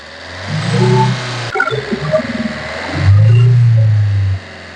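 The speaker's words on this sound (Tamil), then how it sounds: "இன்ஜின் நாய்ஸ் எல்லாம் பாருங்க எவ்வளவு தெளிவா இருக்கு பாருங்க" A car engine revs up twice, rising and holding a loud droning roar, with a brief choppy idle between the two revs.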